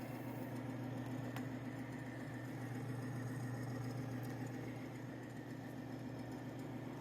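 Timken bearing demonstration machine running at 350 degrees with no engine oil in the cup, giving a steady, faint mechanical hum and drone that holds even throughout without talk.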